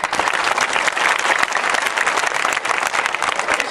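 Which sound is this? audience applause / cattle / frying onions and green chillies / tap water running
audience applause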